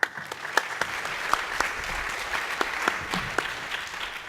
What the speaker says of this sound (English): let's give a big round of applause for Sparked